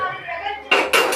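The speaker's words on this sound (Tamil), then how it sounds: "பாருங்கள் தாளித்து கொட்டிட்டாங்க." Hot tempering for a fish curry is tipped into the pot with two sharp metallic clangs of pan against pot. A sizzling wash follows the clangs, loud and close in a home kitchen.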